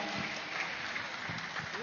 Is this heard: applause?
yes